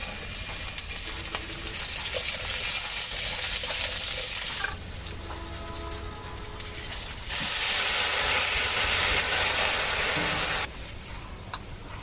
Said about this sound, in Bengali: এখন উচ্ছেগুলো আগে ভেজে নেব